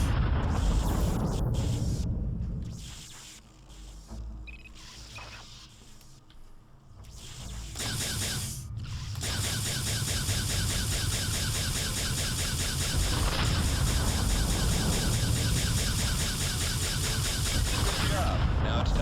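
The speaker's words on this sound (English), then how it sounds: "Really quite visceral explosions." Explosions from the space combat game Descent: Freespace, loud, rumbling, broadband blasts that swell and overlap, dipping briefly before a long sustained roar of repeated bursts.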